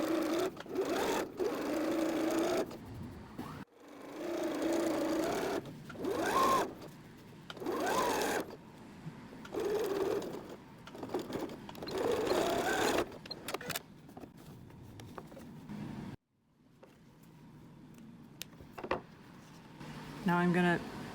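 A sewing machine stitches twill tape onto a tea towel apron in repeated close, whirring runs of rapid stitching separated by short pauses, with a voice talking at times.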